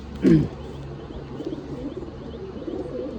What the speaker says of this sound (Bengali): এটা আন্দ্রা প্লাস এর আন্দ্রা পায়রা